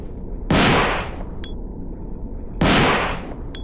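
Two loud gunshots fired at the camera in a Resident Evil game, each a sharp blast that decays over half a second, followed by a brief metallic click, with a steady low background hum.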